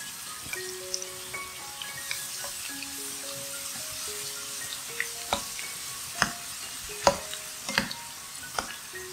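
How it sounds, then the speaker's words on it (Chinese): Wonton wrappers deep-fry in hot oil, with a soft, steady sizzle spotted by sharp crackles and pops that grow more frequent toward the end, faint under sustained tonal notes. "倒入适量的油，待油热后放入云吞皮，炸至金黄色后取出备用。"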